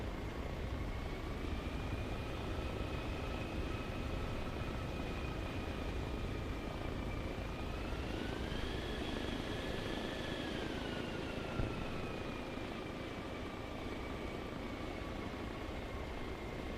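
Mi-24 attack helicopter in the video game Arma Reforger approaching, a steady loud rotor and turbine drone with a high whine that rises in pitch midway and then eases back.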